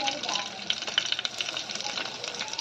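Garlic sizzles in hot oil with cumin, mustard seeds and curry leaves for Maharashtrian kadhi, giving a close, continuous crackling hiss with small irregular pops and stirring.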